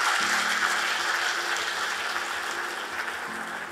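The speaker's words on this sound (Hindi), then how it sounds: "बहुत जोर से तालियां" Loud, sustained applause from a crowd at a law school moot court inauguration, a dense wash of clapping that fades slightly toward the end.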